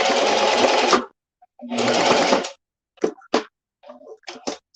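A sewing machine stitching rice bags runs in two loud, steady bursts of about a second each, followed by shorter stop-start runs and brief taps.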